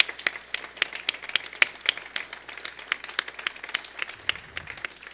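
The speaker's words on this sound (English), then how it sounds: "let's give these kids a round of applause for all the work that they have done" An audience applauds high school students after an investor panel program. The claps are sharp and scattered, moderately loud and steady for several seconds, with no voices over them.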